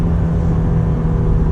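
A Lexus IS350 F-Sport engine drones steadily with a low, even hum, heard from inside the car, loud and unbroken for a brief moment.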